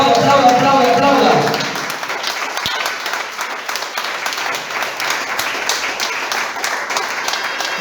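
A church congregation at an evening service claps loudly and densely, the applause swelling for about a second and a half before thinning into scattered, quieter clapping that carries on to the end.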